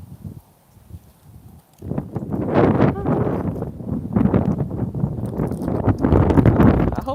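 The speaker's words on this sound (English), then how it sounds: "It's windy, which is a good thing." Wind blowing outdoors during a walk, with a quiet start followed by steady loud rushing gusts buffeting the microphone close up for several seconds.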